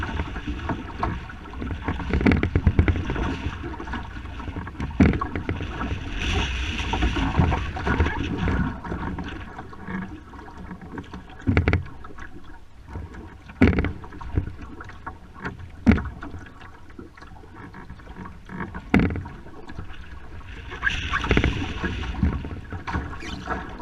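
A boat is paddled on the Yukon River, with a continuous wash of water and wind under rhythmic strokes and occasional knocks, recorded close up.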